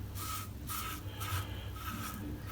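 Supply Razor V2 safety razor shaving a lathered head against the grain, giving close, rhythmic raspy scraping strokes, five in quick succession, with no talk.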